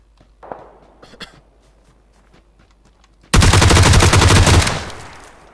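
Sustained automatic fire from a G36C rifle in the video game PUBG Lite, a loud dense burst of rapid shots lasting over a second after a quieter stretch of scattered soft clicks and footsteps.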